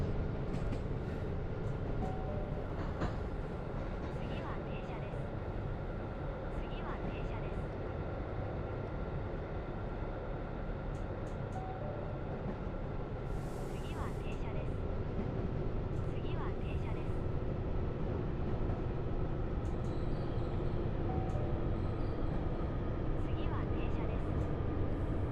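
A train running along the line and braking to a stop, a constant loud rumble of wheels and motors with faint squeals over the top, heard from on board.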